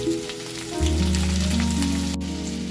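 Food fries in a pan with minced garlic, ginger and salt, a continuous close hiss and crackle that swells and holds steady, with no voices.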